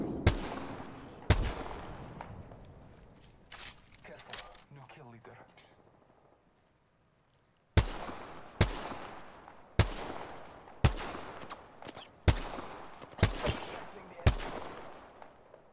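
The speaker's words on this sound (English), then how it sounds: "I'm firing." Gunfire in the Apex Legends video game, a burst of rapid shots followed by a slow series of single heavy reports at regular intervals, loud and close.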